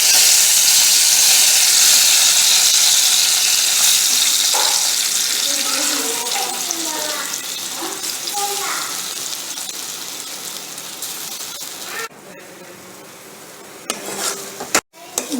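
Grated raw mango with garlic stirred in a hot pan for mango thokku gives a steady hissing sizzle with soft scraping, loud at first and gradually quieter, then broken by a few sharp knocks near the end.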